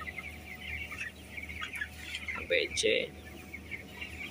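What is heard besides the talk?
broiler chickens clucking in a closed house coop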